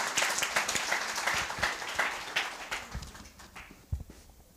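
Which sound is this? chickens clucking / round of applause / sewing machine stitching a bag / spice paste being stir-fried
round of applause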